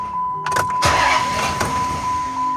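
An engine cranks during a cylinder number 4 compression test, a short burst of starter churning with a couple of sharp surges close by, over a steady high electronic tone.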